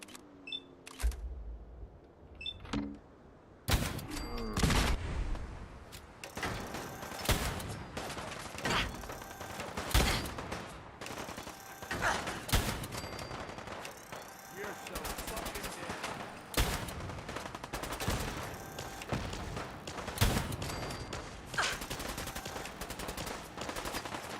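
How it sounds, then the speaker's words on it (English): Gauss rifle fire in Fallout 4: a long series of sharp, loud shots, some in quick bursts, striking repeatedly over a background of game ambience, with short pauses between volleys. "let's go with our trusty Gauss rifle"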